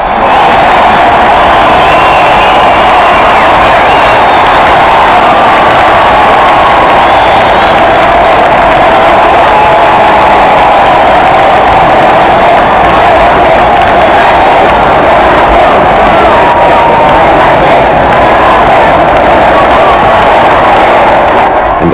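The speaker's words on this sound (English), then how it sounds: "Receives a roar of approval from the crowd, who call the couple back and back again onto the balcony" A vast crowd of around half a million people roars and cheers for a royal couple on a palace balcony, a loud, dense, sustained wall of shouting and whooping that never lets up.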